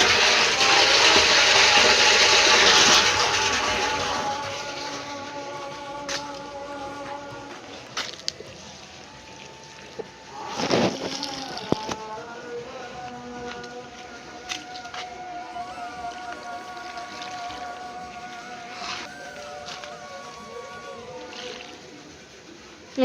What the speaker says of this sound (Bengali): তো চলো জল দিয়ে নিই।